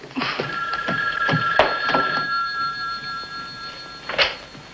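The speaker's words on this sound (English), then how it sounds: "Listen, Al, you better let me answer that phone" An old telephone bell rings indoors, a steady loud trill running across several seconds with soft knocks and movement around it, ending with a sharper clatter.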